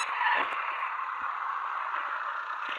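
A video game car drifts and skids, sending out a continuous, loud tire screech that holds steady throughout with slight wavering.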